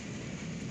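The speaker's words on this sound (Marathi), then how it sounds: "पिरंगुट भागामध्ये तुफान पाऊस झालेला आहे" Heavy pre-monsoon rain falls in the Pirangut area of Pune, a brief dense roar of downpour with a low rumbling undertone, steady and loud.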